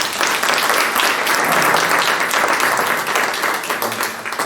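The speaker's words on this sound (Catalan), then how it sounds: "Un aplaudiment pel Toni, sisplau." Loud, continuous applause from an audience at a round-table event in Girona, a steady wash of many hands clapping throughout with no talk over it.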